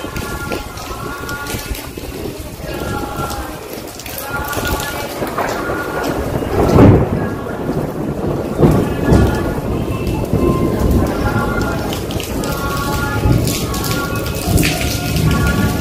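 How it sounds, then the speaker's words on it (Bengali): Steady heavy rain pours down throughout, with low rumbles of thunder rolling in and swelling midway through. "এখন বৃষ্টি বৃষ্টি পড়ছে, এদিকে বিদ্যুৎ চমকাচ্ছে"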